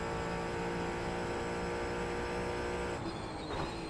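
A Mustang race car drives at speed around the Summit Point track, its engine a steady, loud, high drone that shifts slightly near the end.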